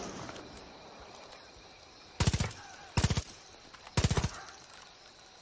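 Video game gunfire from other players in an online match: three short rapid bursts of automatic shots, each lasting a fraction of a second, loud and close against a quiet ambient background.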